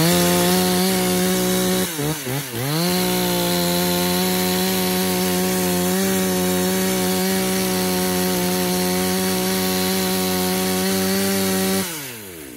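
A used Japanese-market M4 chainsaw engine idles steadily at close range, with a brief revving dip early on before settling back into an even, loud drone that cuts off near the end.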